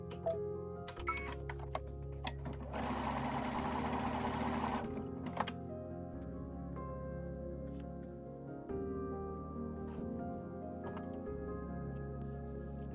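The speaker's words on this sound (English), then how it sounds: "I'll put them together as I chain sew" A sewing machine chain-sews fabric pieces for a Christmas-in-a-jar table runner, running in steady bursts with clicks and handling noises between seams, the longest run lasting a couple of seconds.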